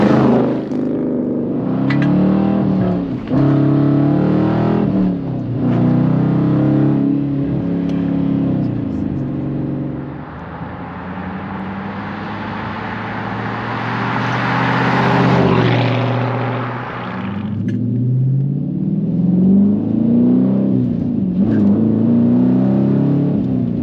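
A 2018 Dodge Challenger R/T V8 revs up in a few loud, swelling bursts to around 3,500 RPM, the deep rumble rising and falling close by.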